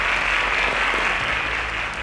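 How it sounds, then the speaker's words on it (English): An audience claps in steady, continuous applause at a semi-final competition show, a dense even wash of hands with no voices over it. "A round of applause for them."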